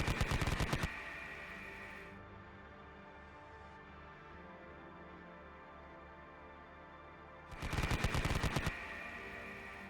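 Two bursts of rapid gunfire from a Konflikt '47 battle between Commonwealth and Axis forces, each a loud, fast rattle of shots, with a quieter stretch of low rumbling between them.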